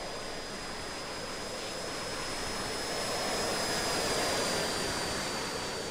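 A simulated RC jet plane at full throttle in the RealFlight 9.5 simulator gives a steady, loud jet roar with a high whine, swelling slightly midway and heard alone without talking.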